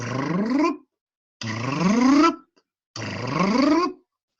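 Three loud, buzzy tones sweep upward in pitch, each lasting under a second and separated by short silences.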